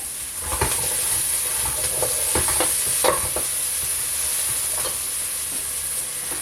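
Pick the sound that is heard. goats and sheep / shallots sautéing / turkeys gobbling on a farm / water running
shallots sautéing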